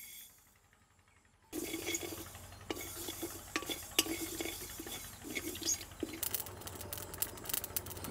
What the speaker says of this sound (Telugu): ఇప్పుడు ఆవాలు వేసుకుని వేయించుకుందాం.